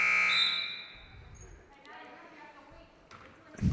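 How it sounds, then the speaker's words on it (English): A sharp electronic buzzer blares at the start of a basketball tournament game and quickly fades, followed by crowd murmur and gym ambience, with a thump near the end. "Buzzer sounds just as the free throw shooter gets the ball."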